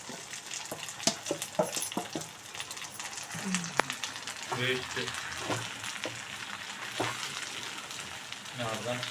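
Ground mint chutney hits a hot oil tempering and stirs through it, a low sizzle with irregular spatters and clacks of a spoon against the pan, faint speech now and then underneath.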